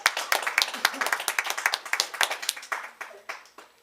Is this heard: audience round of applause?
yes